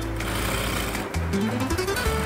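A sewing machine stitches along the hem edge of a salwar, running in a fast, steady mechanical whir with a brief dip partway, close and loud.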